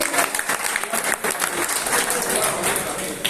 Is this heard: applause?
yes